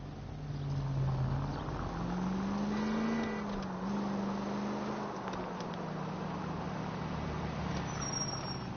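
A car being driven in the L.A. Noire video game, its engine a steady drone whose pitch rises and falls gently with speed, moderately loud and continuous with no talk over it.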